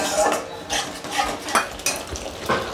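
Spice paste and whisked curd stirred and sautéed in a pan over low heat for a Bengali rohu fish kalia, with loud rhythmic scraping sweeps of the spoon about twice a second over a faint sizzle.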